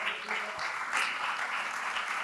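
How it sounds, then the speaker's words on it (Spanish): An audience at a talk on older adults' economy and entrepreneurship applauds Carmencita Rodríguez, a former school teacher, with dense, steady clapping from many hands at moderate distance, sustained throughout. "Un aplauso para Carmencita Rodríguez"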